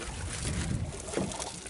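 Oars splash and swish through water close by as a small boat is rowed on a reservoir in Rayong, Thailand, with light wind noise throughout.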